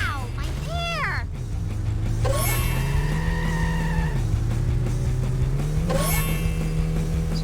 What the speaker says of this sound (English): it actually already plays the braking sound even though we're not on the ground